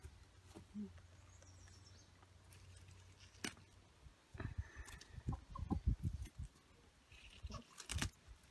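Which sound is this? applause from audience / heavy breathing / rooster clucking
rooster clucking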